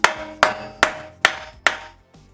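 Hammer striking a steel steering knuckle on a Toyota 4Runner or Tacoma front hub, five loud ringing metallic blows at an even pace, each decaying quickly, no talking.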